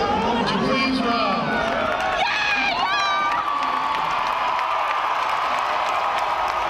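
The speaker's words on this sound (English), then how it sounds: "As the crowd cheers" A large crowd cheers and whoops at a high school graduation held in a baseball stadium, a loud sustained roar with shouting voices rising and falling across the whole stretch.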